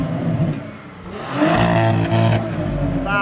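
Porsche Panamera fitted with a sport exhaust accelerating nearby, a loud rising engine roar with a brief dip before the revs climb again.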